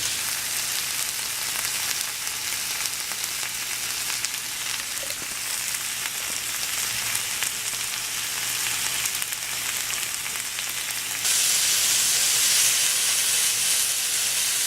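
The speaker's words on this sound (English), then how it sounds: "I'm grilling them until they turn golden brown, and then I'm going to flip them to the other side and do the same as well." Chicken kebabs sizzle steadily on a grill, a continuous close frying hiss that grows brighter and louder toward the end, with no talking.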